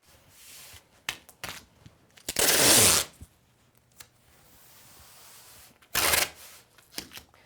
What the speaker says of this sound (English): So I'm going to tape it with masking tape down to the work surface.